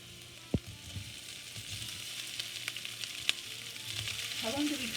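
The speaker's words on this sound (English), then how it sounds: "How long do we cook the tofu?" Tofu fries in a heated pan with a steady, close sizzle and soft crackle, a few sharp clinks of utensils against the pan standing out.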